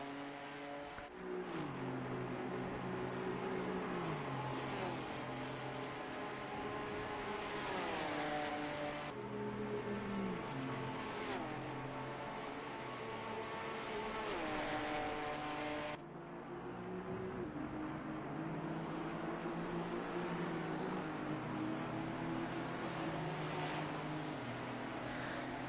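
Race cars in a sim racing video game at Bathurst, with engines whining close together and rising and falling as they shift through gears, steady and unbroken throughout.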